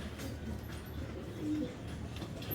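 Giribaz tournament pigeons coo softly in a loft, with low murmuring calls over a faint rumbling background, brief and quiet, no talking.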